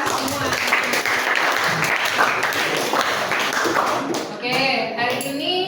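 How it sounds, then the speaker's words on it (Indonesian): Classroom of students clapping after their teacher's request at the end of a science lesson, a dense steady patter throughout that thins toward the end, with some children's voices mixed in. "Beri tepuk tangan buat kita semua"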